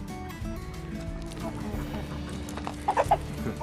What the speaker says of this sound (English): I love chicken noises.